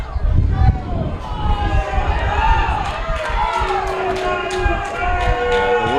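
A home crowd at a state high school baseball game jeers loudly as the coach argues with the umpire, a dense, sustained roar of shouting and whistling voices close by with no pauses.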